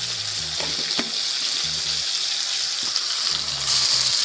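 Masala frying in a pan with tomato for a mango and crab curry, a steady close sizzle with stirring scrapes and knocks throughout, no voices.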